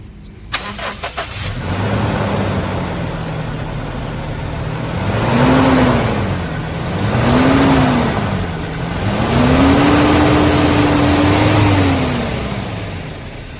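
A 2015 Toyota Innova petrol car engine cranks and starts, then settles into an idle and revs up three times, each rise swelling and falling back, close by.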